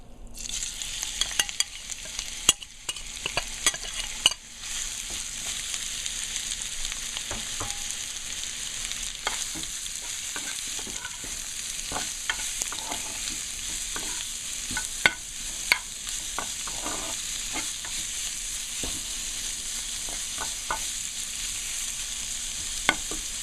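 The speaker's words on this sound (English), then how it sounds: "the oil is hot, so I'm gonna put the shrimps in" Shrimps frying in hot oil for a katahar curry, a steady bright sizzle with scattered pops and spatters throughout, close and continuous, with occasional utensil clinks and no voices.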